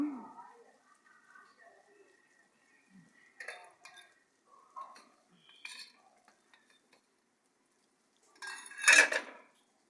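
Cow skin curry with ginger and garlic stirred in a pot over a firewood stove: scattered soft utensil scrapes between bits of talk, ending in a loud, dense clatter of spoon against pot near the end.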